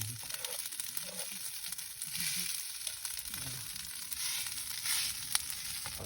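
Pre-cooked rice sizzles steadily in a pan, reheated as nasi goreng at a mountain base camp, with occasional stirring scrapes over a continuous hiss.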